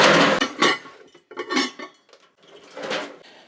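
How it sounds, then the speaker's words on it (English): Ceramic serving dishes and bowls clatter and clink as they are stacked on a top shelf during a kitchen cleanout, three separate loud bursts of knocking dishware with short pauses between. "as I'm stacking things with each other, I'm trying to stack like things with like things"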